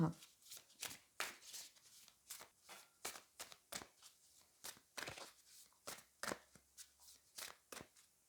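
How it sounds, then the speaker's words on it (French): An oracle card deck is shuffled by hand, a rhythmic run of crisp riffling and slapping bursts repeating roughly every half second, close and clear. "on va aller prendre une dernière carte du Loputin Oracle"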